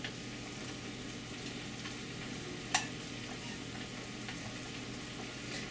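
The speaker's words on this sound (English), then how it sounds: "Okay, now stir again. It's very easy. Just stir and let it heat up." Fried rice sauce heats in a pan with bacon, chicken hearts, tofu, fish cake and egg, a quiet steady sizzle with one sharp utensil tap near the middle.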